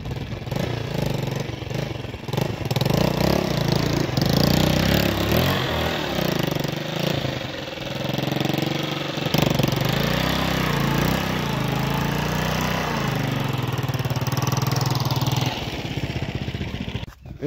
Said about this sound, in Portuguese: Pessoal, vou ver se a moto atravessa ali.